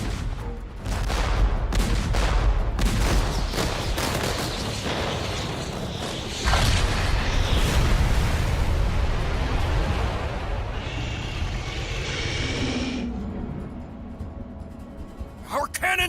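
Rapid bursts of booming cannon fire and explosions against a hydra in Infinity Strash: Dragon Quest The Adventure of Dai, loud and dense, with whooshes and mechanical clatter under ongoing talk and action noise.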